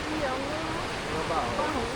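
River flowing beside a mountain trail in Marble Canyon, a steady broadband rush of water with faint voice-like traces over it, continuous and fairly loud.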